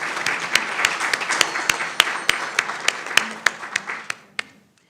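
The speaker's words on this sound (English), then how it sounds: "Let's give Candidate Starnes a round of applause." Scattered applause from a modest audience at a county candidates' forum, with individual loud claps standing out before it thins and fades to silence near the end.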